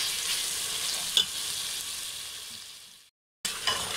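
Mutton ojri with onion and tomato fries in a pan, making a continuous close hiss that briefly cuts to silence and then resumes, with a faint stir or knock early on and nobody speaking.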